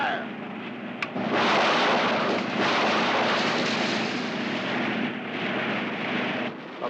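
Heavy artillery and gunfire during a wartime action scene, a sustained loud roaring barrage of blasts that swells after a sharp report and rumbles on without letup.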